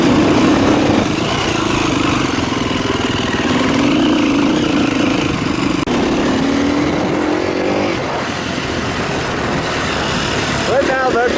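A dirt bike engine held at high RPM on a trail ride after a thunderstorm, a loud, close, sustained buzzing drone that rises and falls slightly throughout.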